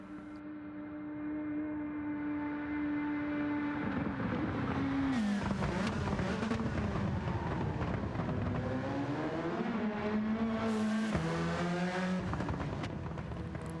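Castrol Supra GT500 race car in Gran Turismo 7 with a loud, steady engine drone that climbs and drops through gear changes over a lap, continuous and close with no talking.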